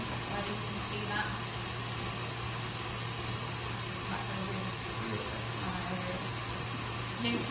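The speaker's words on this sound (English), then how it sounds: "So I'll just give it about 2 minutes just to whisk on its own first." Electric mixer whisking a marshmallow mixture in a home kitchen, a steady continuous motor whir with a constant hum running throughout, moderately loud and unchanging.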